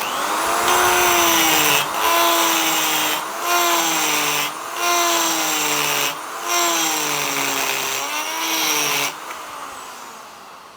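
Carbide burr from Banggood grinding a piece of aluminium lubricated with WD-40: a loud, steady high-pitched whine with wavering pitch, broken by several brief pauses as the cutter lifts off the metal, no talking.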